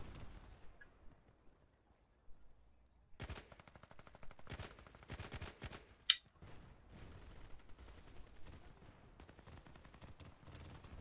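Gunfire in the online shooter Battlefield Play4Free, rapid automatic bursts crackling in several volleys after a quiet opening, with one sharp louder shot near the middle and someone talking faintly underneath.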